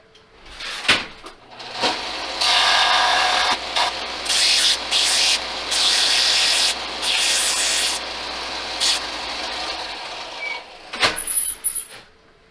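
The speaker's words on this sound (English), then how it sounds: "I went ahead and ground it off, and then I also ground a taper, a bevel in the threads" An angle grinder cuts a bevel onto the threaded end of a bolt for a mini Model S chassis axle, with rough, loud grinding bursts that start and stop repeatedly across most of the stretch, bracketed by brief clunks.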